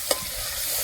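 Tomato tempering sizzles in a hot pan, a soft steady frying hiss with one brief sharp clink near the start.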